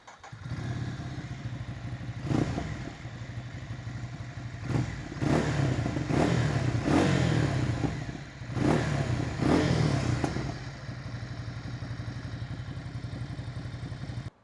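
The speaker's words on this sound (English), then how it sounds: "let's do a quick sound test, but I have to point out that this is an upgraded exhaust" A 2024 Ducati Scrambler Nightshift 800 with an upgraded Termignoni exhaust idles with a deep throbbing note, then blips the throttle in several sharp revs, some in quick succession, before settling back to idle.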